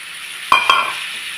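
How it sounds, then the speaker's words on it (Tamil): Thick tamarind water, about a lemon's worth dissolved, hits frying masala for an Andhra-style bitter gourd gravy, setting off two sharp, close sizzling bursts in quick succession that settle into a steady, softer hiss. "இப்போ புளி ஊற்றி நல்லா வதக்கியாச்சு"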